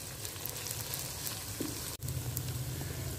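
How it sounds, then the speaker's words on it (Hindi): Onions frying in a pan until soft give a steady, close sizzle throughout, with one brief dropout midway and no talking. "प्याज को हम नरम होने तक सिर्फ फ्राई करेंगे।"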